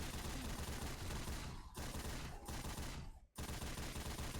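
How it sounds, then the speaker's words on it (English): Gunfire in the video game Left 4 Dead, a dense continuous fusillade of rapid shots filling the clip, loud and steady with only brief gaps. "Did I shoot you, Brandon?"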